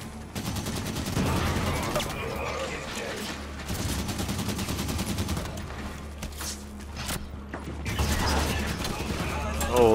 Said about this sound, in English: If we turn these back on, they'll make quick work. Turrets on and firing.